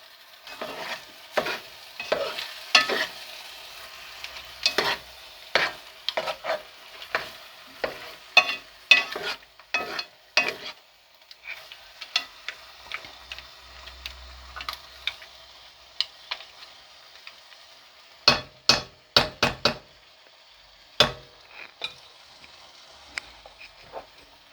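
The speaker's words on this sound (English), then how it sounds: "that is my paella rice cooking" Paella rice with mussels and king prawns cooking in a pan, heard as a run of sharp spoon scrapes and clicks against the pan in an irregular rhythm over a faint steady sizzle, close by with no talking.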